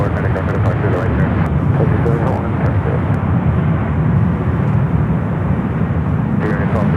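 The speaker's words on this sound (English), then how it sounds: "2274, kind of go for departure right there." A United A321neo airliner takes off from San Francisco airport, a loud, steady broadband engine roar filling the whole stretch, with brief radio-like clicks and voices faintly over it.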